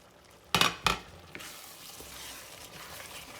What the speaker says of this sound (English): So now the sauce is boiling.